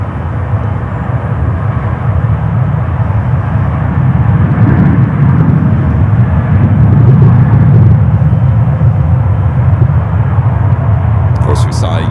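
A jet airplane taking off at San Francisco airport, heard as a loud, sustained low engine roar that swells steadily throughout.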